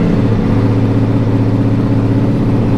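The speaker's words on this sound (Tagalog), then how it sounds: "ito yung tunog ng cold start ng Multistrada pagka stock pipe" A Ducati Multistrada V4 S motorcycle engine on a cold start with stock exhaust runs loud and close with a steady, deep, throbbing rumble at a fast idle, and no voices.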